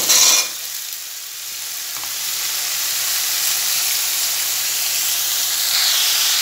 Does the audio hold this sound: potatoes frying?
yes